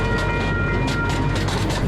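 A miniature train on the Paradise and Pacific Railroad at a Scottsdale train park rumbles steadily along its track, a close, continuous rolling drone with faint rhythmic clatter and no voices.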